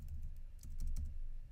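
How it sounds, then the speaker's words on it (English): Computer keyboard typing with several quick key clicks clustered in the second half, close and crisp over a low background rumble. "I'm going to type in a color scheme called CPK"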